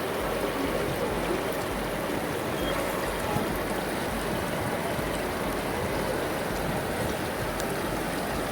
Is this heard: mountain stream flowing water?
yes